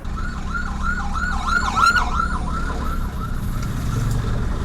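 Ambulance siren wailing in its rising and falling pattern as it passes through road traffic, fairly near and clear over a low rumble of engines.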